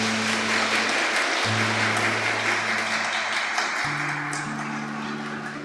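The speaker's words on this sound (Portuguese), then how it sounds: "E a salva de palmas." A church congregation applauds after a baptism at Sunday Mass, with steady, dense clapping filling the space throughout while sustained organ-like tones hold underneath.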